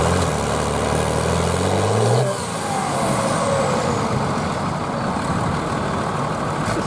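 Tractor engine labouring during tractor pulling at a vintage steam show, a loud, steady heavy diesel drone with a rising pitch sweep that drops off partway, surrounded by outdoor show noise.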